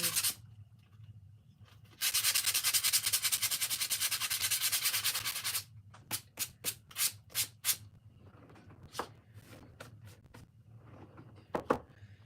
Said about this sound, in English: I'm just going to sand this off